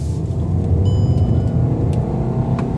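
A 2015 Volkswagen Passat four-door sedan accelerates, heard as a steady loud engine and road rumble from inside or near the car, with no talking.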